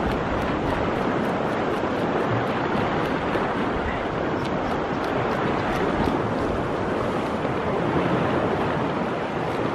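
Surf rolling onto a south coast shore, a steady broadband wash of waves with wind buffeting the microphone throughout, constant and fairly loud with no voices.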